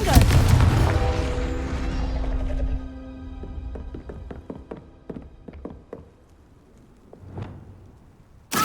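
A Confringo fire spell bursts in Hogwarts Legacy as a loud, booming blast, followed by a run of sharp ringing taps and crackles that fade out, then a softer later thump.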